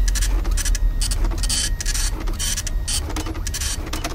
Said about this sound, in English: That printer's not much better.